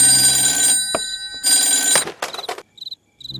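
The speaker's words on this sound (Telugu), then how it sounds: "ఫోన్ చేస్తున్నారు కదా" An old-style telephone bell rings loudly in bursts within an Aa Ratri film scene, joined by a high electronic trill in short repeated pulses, with no talk.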